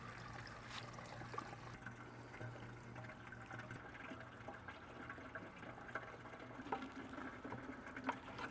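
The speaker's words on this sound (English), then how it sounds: "We just grab it and pour it right in here." Liquid hydroponic nutrient solution being poured into a hydroponic system, a faint continuous trickle and gurgle of water running for several seconds.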